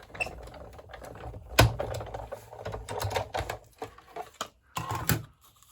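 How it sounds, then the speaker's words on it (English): A die cutting machine presses card stock through its plates, giving a rapid ticking, clattering rattle with irregular knocks and a louder thump partway through, close and fairly quiet with no talk. "And we'll die cut this."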